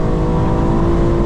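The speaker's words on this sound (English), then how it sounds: "Rev limiter in this car sounds so good" A BMW M4 Competition xDrive engine holds a loud, steady, buzzing high-rev drone right at the rev limiter, with no talking.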